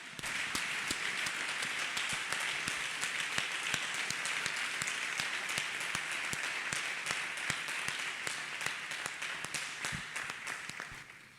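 A church congregation claps hands in praise of Jesus during a testimony service, producing sustained dense applause with distinct sharp individual claps throughout, steady and fairly close for over ten seconds.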